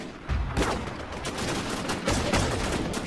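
Rapid bursts of gunfire from a War Inc. Battlezone multiplayer match, a steady stream of loud shots and volleys running through the whole stretch with no pauses.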